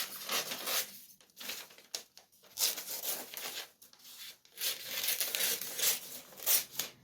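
Scissors roughly cutting paper around a printed flower, steady rustling snips and crinkles in close succession, near and moderately loud with brief pauses.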